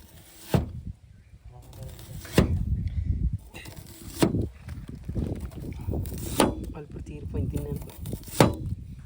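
A knife cuts slits into a tuna fish at an outdoor cooking spot, with several sharp chopping knocks spaced a couple of seconds apart while people talk nearby.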